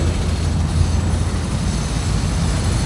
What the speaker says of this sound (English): Now we got the subway construction or something going on here.